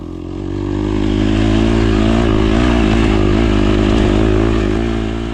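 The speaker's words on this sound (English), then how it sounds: "riding my dirt bike in extreme conditions" A dirt bike engine drones steadily and loudly while riding through snow-covered woods in rain, sleet and snow, holding a constant throttle with harmonic rumble and no talk.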